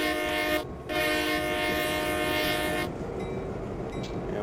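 A diesel locomotive in Train Simulator 2014 on the Stevens Pass route throttles up, its loud droning engine hum steady and near before easing to a lower rumble.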